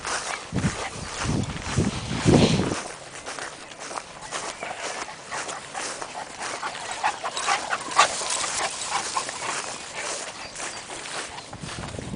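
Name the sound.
dog whimpering and panting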